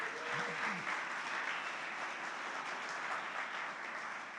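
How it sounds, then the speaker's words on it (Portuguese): A church audience gives a long, steady round of applause for Jesus, thick crowd clapping filling the whole moment with a few brief voices near the start. "Você podia dar um aplauso a Jesus por isso?"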